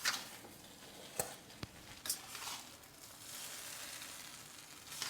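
Hot cooked rice mixture sizzling and frying in a hot pan while being stirred, a soft continuous sizzle broken by a few sharp scraping clicks of the spoon, moderately quiet with no talking.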